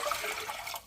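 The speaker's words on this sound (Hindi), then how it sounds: "इस पतीली में मैं 1 लीटर पानी डाल रही हूँ" One litre of water pours steadily into a cooking pot in a home kitchen, a continuous close rushing splash that tapers off at the end.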